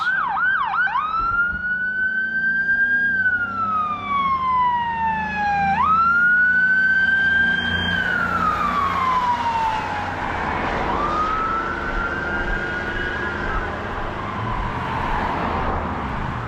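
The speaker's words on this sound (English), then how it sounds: "Here comes a ambulance." A passing ambulance's loud wailing siren sweeps up and down in Maine, the pitch dropping away as it moves off, over steady traffic rumble.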